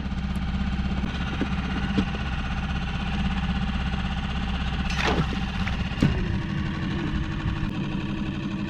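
A dinghy outboard engine idles steadily with a low, even rumble that runs through the whole stretch, broken by a couple of brief knocks and clatters along the way.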